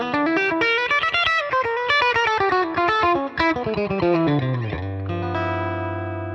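A guitar plays a quick run of bright single notes through a Roland Blues Cube amp on a clean tone with the bright tone control engaged, ending on a sustained ringing chord.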